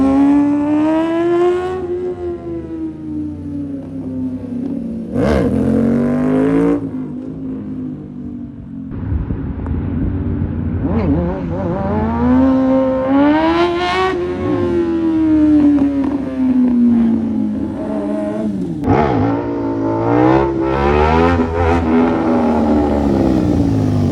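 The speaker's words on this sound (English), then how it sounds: "We'll be practicing wheelies on a small bike." Small motorcycle engine revving hard and repeatedly during wheelie practice, pitch rising and falling in loud sustained sweeps with brief throttle blips, close to the listener, no talking.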